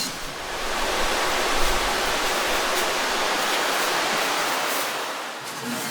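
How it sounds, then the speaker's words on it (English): Ocean waves washing onto a beach front, a loud continuous broadband roar of surf swelling and easing without pause. "listening to the sound of the waves"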